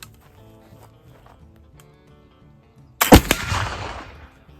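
Test shot of wet-milled black powder made with cottonwood charcoal at a 77-13-10 ratio and milled in denatured alcohol, a single loud outdoor blast that bursts in after a quiet stretch, then a rumbling decay trailing off over about a second.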